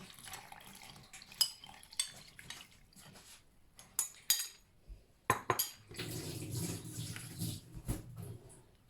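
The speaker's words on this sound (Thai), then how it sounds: "ผสมให้เขาเข้ากันเรื่อยๆเลยแล้วก็นวดให้ เนียนระดับหนึ่งนะคะ" Roti dough is mixed in a bowl from yogurt, yeast, water and salt: scattered clinks and scrapes of a utensil against the bowl, then a steadier wet stirring and squelching, close and fairly soft.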